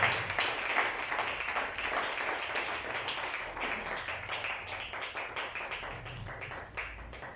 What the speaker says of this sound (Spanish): Denle un fuerte aplauso a Cristo Jesús